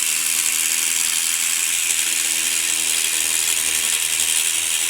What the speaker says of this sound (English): start sanding a little bit